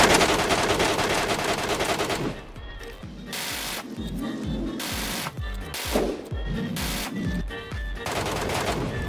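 Video game shootout with rapid automatic gunfire in dense bursts, loud and continuous, broken by short gaps and single heavy shots, with a faint voice underneath.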